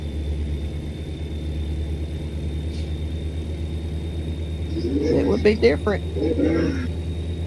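A truck engine in American Truck Simulator idles with a low, steady, droning rumble, and a person briefly talks over it.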